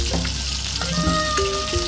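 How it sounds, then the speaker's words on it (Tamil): Tomatoes go into onion and garlic sautéing in a clay pot, a steady close frying sizzle with a brief wetter burst as they land, heard alone without talk. "வெங்காயம் பூண்டு நல்லா வதங்கிடுச்சு. இந்த டைமில் தக்காளி ஆட் பண்ணுறேன்."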